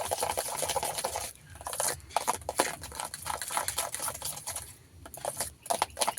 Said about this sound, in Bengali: সুজিটাকে এইভাবে একটু মিশিয়ে নিতে হবে